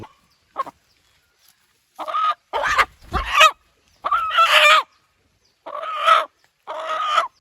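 Native country chickens, held in hand, cluck in a series of loud, close bursts with short pauses between, and a rooster-like call stands out among them. No talking.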